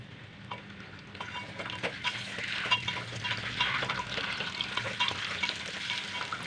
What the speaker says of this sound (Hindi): आलू और अंडे फ्राई कर रही हूँ।